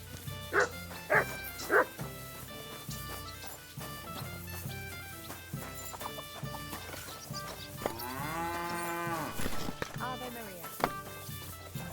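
A dog in Kingdom Come Deliverance II barks loudly two or three times near the start, then medieval game music, ambient sounds and a voice follow.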